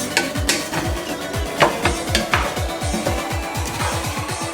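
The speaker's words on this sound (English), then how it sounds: "We are going to be sauteing all of this food" Vegetables for a vegetable fried rice sauté in a pot, with a soft sizzle beneath busy, repeated scraping and clattering of a utensil against the pot, close and continuous.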